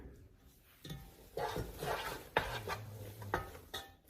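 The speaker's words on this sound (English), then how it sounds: "You can fast forward my video if you don't want to watch me stir" Spoon stirring a thick Rice Krispie bar mixture in a pot, giving soft scraping and sticky swishing strokes with occasional knocks against the rim, quiet and close over a low background hum.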